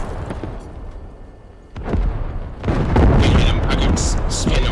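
Tank cannon fire in Squad knocking out an enemy ZTD light tank: a heavy boom erupts and grows into a roaring, rumbling blast that keeps swelling, with crew voices talking faintly over the engine noise.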